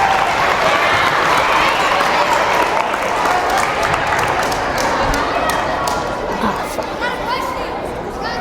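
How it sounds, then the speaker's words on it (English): Elementary school children at a workshop give a long burst of loud, dense applause mixed with crowd chatter, close and sustained, tapering slightly toward the end. "One more big round of applause."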